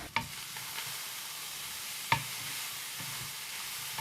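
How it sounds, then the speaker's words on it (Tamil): Cooked rice stirred into masala in a pan for a lunch box rice dish: a quiet, steady background hiss with a couple of sharp utensil scrapes, with no talk. "அதுக்கப்புறமா நம்ம வடித்து வச்சுருந்த சாதத்தையும் இதில் போட்டு நல்லா மிக்ஸ் பண்ணிக்கலாம்."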